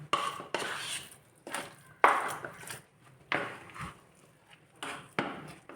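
A spoon scrapes and knocks against a bowl while wheat flour is mixed into mashed ripe banana batter, giving repeated close, distinct strokes with short pauses between them.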